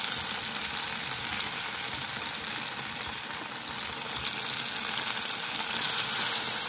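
Steady, dense sizzling of food frying in a pan, loud and close, with a constant crackling hiss throughout and no talking.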